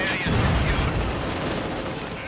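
Rapid submachine gun bursts from a PPSh-41 crackle in a Company of Heroes 2 battle, dense overlapping gunfire and booms forming a continuous loud barrage.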